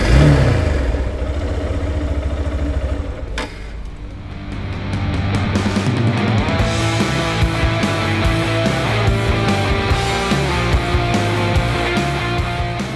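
A Hero Thriller 160R motorcycle engine runs steadily nearby, briefly dropping away before picking back up into a continuous mid-pitched drone with slight revving, with no talking.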